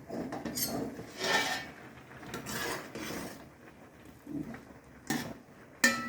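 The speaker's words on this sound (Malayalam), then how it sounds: "വേവാറായി നമുക്കൊന്ന് ഇളക്കി വെക്കാം" A spoon scrapes and stirs through curry in a metal cooking pot, giving a close series of uneven scraping and clinking strokes with a few sharper knocks near the end, and no talking.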